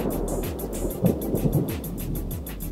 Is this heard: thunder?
yes